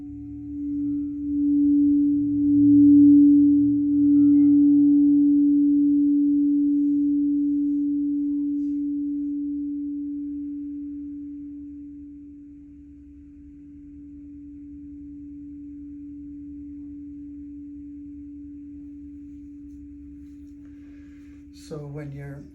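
A steady sine tone for the sacral chakra hums low and pure for over twenty seconds, swelling louder early on then settling, with a faint deeper drone beneath and a brief click near the end.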